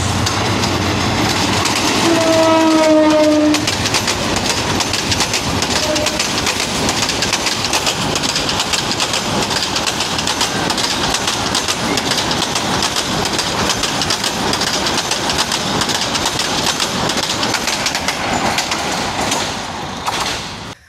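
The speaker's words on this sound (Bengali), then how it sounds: "শেষ পর্যায়ে এসেও আমরা একটি ট্রেনের শব্দ পাচ্ছি।" A train passing at Ijjatpur railway station in Bangladesh, a loud, close, sustained rumble with rhythmic wheel clatter and a brief squeal of brakes early on, birds faintly chirping.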